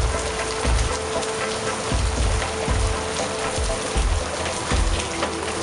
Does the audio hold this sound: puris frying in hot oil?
no